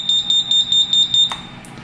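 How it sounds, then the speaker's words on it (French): A beeper fitted to a Cheerson CX-117 quadcopter sounds a rapid, steady series of about a dozen high electronic beeps. They are close and clear, then stop abruptly with a click. "j'ai rajouté un beeper, c'est ce qu'on entend faire des bips"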